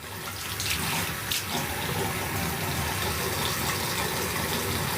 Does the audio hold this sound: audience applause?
no